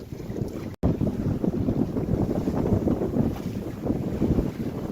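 Strong wind buffets the microphone aboard a sailboat heading toward North Queensland, a loud, continuous roar with gusty swells and a rush of water beneath, briefly cutting out near the start.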